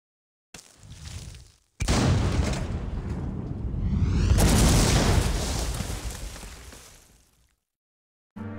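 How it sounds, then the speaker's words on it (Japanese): A brief burst, then a loud roaring blast that swells and slowly fades, a cannon discharge with a long rumbling tail in the PS2 video game Onimusha 2. "結局一発撃っただけで大砲は壊れてしまい"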